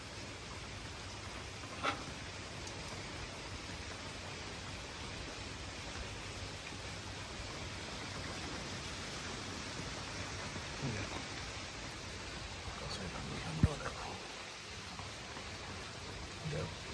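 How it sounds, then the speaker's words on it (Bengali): Heavy rain pours down as a steady, even wash of hiss that stays faint and constant, with an occasional small knock. "গুলিয়ে বৃষ্টি হচ্ছে।"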